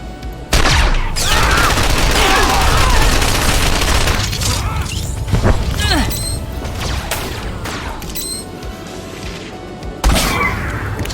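Sniper rifle gunfire and loud blasts in the Star Wars: The Old Republic video game on Dromund Kaas, with dense, near shots and crashes throughout and someone talking over the action.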